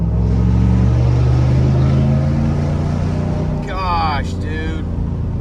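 A Chevrolet Silverado pickup with a 6.2-litre V8 and straight-pipe cat-back exhaust rumbles steadily while accelerating, with a deep, throaty exhaust drone, loud and close, while a man exclaims briefly over it.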